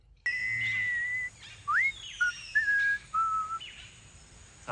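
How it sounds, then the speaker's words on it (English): Android character Data from Star Trek: The Next Generation whistles an off-key, out-of-tune tune, several short wavering notes with gaps between them, fairly clear over a quiet background. "he can't whistle in tune for some reason"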